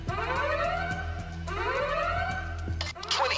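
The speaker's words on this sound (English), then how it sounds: "there goes the alarm" A heist alarm in the video game Payday 2 wails in repeated rising siren sweeps about every second and a half, with thumps and other game noises underneath.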